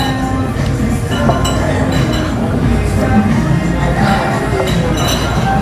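Glasses of draft beer clinking in a toast at a budget izakaya in Suwon, a few bright chinks over the busy hum of a crowded bar with people talking.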